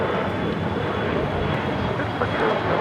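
A CRJ 700 jet takes off from runway 25 right at LAX with an unbroken, loud roar of engine noise throughout.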